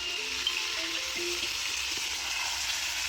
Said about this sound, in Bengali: এই যে মাংসটা ভাজা চলছে রে এখন একটুখানি